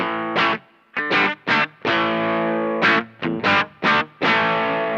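Supro Sahara electric guitar, volume rolled slightly up and tone full, strums short, punchy chord stabs in a choppy rhythm, each burst cut off sharply, with bright attack and little sustain.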